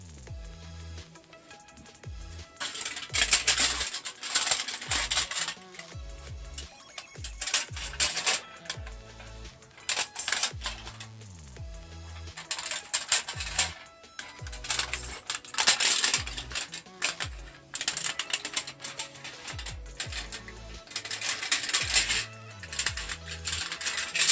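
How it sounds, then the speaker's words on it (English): A copper plate being cut into pieces gives off bursts of sharp metallic clicking and crunching snips, repeating in irregular clusters close by over a long stretch, with no speech. "Let's cut the pieces of copper."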